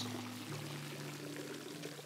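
Water pours steadily into a large container in the video game It Takes Two, a continuous splashing stream under a low tonal game hum.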